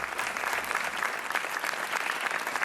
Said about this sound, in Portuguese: bora lá então começar o jogo com este aplauso